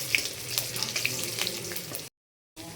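Garlic and mustard seeds crackle in hot oil for a morola fish curry, a busy sizzle with sharp popping specks that cuts off abruptly before briefly resuming.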